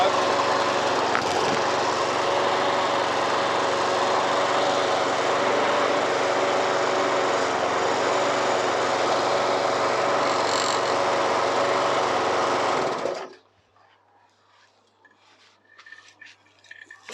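Self-drive lawn mower engine running steadily inside a shed while burning off oil, a loud continuous droning roar that stops abruptly near the end, leaving quiet with faint clinks.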